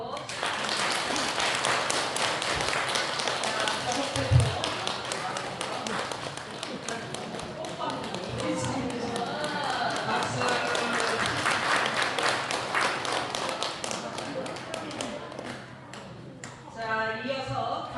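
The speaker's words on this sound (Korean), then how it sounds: "박수로" Sustained applause from a gathered congregation at a Won Buddhist Dharma Day commemoration and dharma title conferral ceremony, a dense, steady clapping that holds for the whole stretch and swells slightly again near the end.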